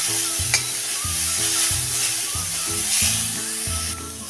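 Grated carrots sautéing in a pan for carrot rabdi, a steady low sizzle and hiss with repeated stirring scrapes at a regular pace, close and alone with no voices.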